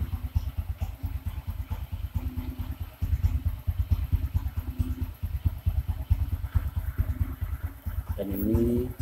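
A 2013 Honda Supra X 125 motorcycle idles with a steady, rapid low putter, close by and even throughout.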